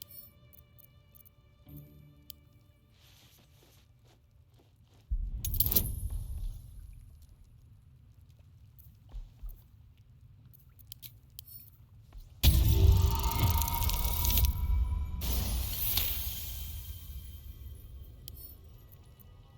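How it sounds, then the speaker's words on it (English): Quiet stretches broken by bursts of metallic clicking and scraping from lockpicking in Baldur's Gate 3, with a louder rattling, grinding passage near the end, close and without voices. "I love the sound of lockpicking."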